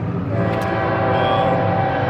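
A freight train passes through a railroad crossing in Coffee County. It sounds a loud, sustained horn over the continuous heavy rumble of the rail cars.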